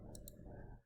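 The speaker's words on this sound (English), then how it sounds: "Clicking on that" Two quick, crisp mouse clicks land close together near the start, faint and sharp over a low steady background hum on a Windows computer.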